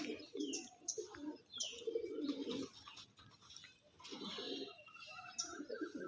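Low, rolling coos from Andra pigeons close by, repeating in soft bursts, with faint chirps and light rustling between them.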